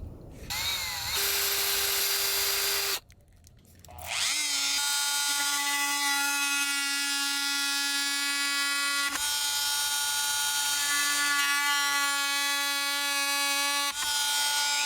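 High-pitched whine of a small power tool cutting a hole in a DJI Pocket 3 case, running steadily with one brief stop and restart, close and moderately loud.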